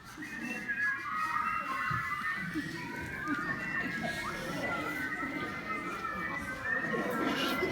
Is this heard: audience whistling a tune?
yes